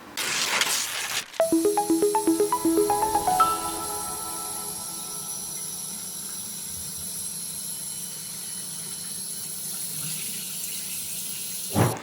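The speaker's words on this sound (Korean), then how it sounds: "요거는 360도 돌아가는 연장된 호수 형태의 수도꼭지입니다" A 360-degree rotating extendable hose-style faucet runs a steady, hissing stream of water into a sink. Clunky handling knocks come first, then the flow continues evenly and close for about ten seconds with no talking.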